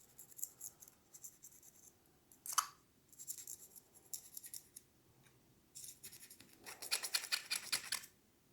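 Metal scraper rasping carbon buildup from the chamber area inside a Ruger Mark IV pistol, coming as short, close, dry scratching strokes with brief pauses, then a denser burst of quick scrapes near the end.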